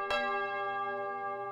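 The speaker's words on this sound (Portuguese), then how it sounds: "Toca o sino, sacristão." A church bell struck once by the sacristan during a novena service rings out loud and clear, its single strike leaving a long, rich ringing tone that slowly fades.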